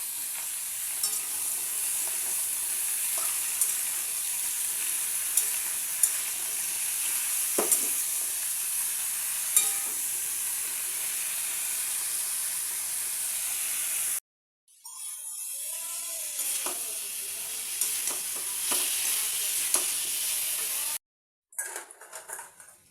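Vegetables stirred and frying in a pan for a Bengali rasa curry with bori, a steady close sizzle broken by scrapes of the spatula, cutting out briefly twice near the end.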